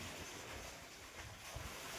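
Water gushing from the pipe of a solar-powered borewell submersible pump, a soft, steady broadband rush with no clear breaks.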